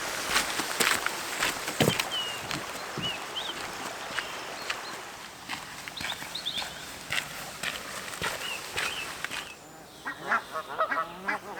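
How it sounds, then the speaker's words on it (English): Geese honking noisily at Derwent Water, repeated calls scattered across the scene at moderate distance over steady outdoor background, with some footstep-like clatter. "I always find myself trying to compete with the geese. They are so noisy."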